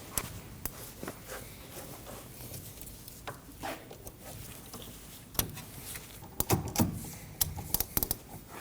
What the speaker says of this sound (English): Now I'm using an extension on a ratchet. We can go ahead and loosen that up.